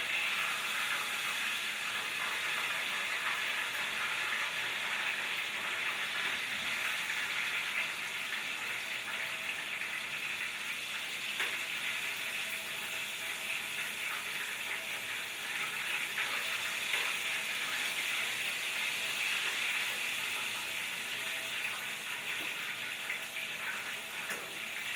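Chicken pieces frying in oil in a pan, a steady, close, unbroken sizzle and crackle that holds at an even level throughout with no voices.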